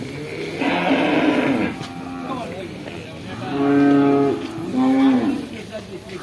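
Several low, drawn-out moos from buffalo calves, close and loud, coming in separate calls with short pauses between them.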